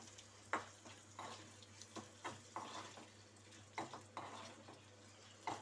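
Seasoning frying in a pan for a brinjal curry, soft sizzling under intermittent scrapes and stirs of a spoon at a steady, irregular rhythm, faint and close.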